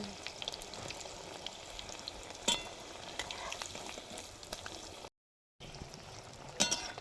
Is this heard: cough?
no